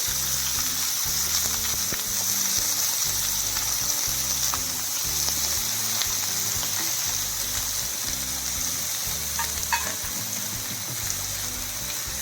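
Onion sizzles and fries in hot oil in a kadai on a stove, a steady close crackling hiss with soft stirring bumps underneath, continuing evenly throughout without talk.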